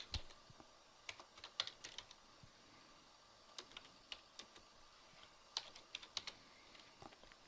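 Rapid, irregular keystrokes on a computer keyboard while typing text into an Excel chart title, close and fairly quiet over a steady background hiss, with no talking.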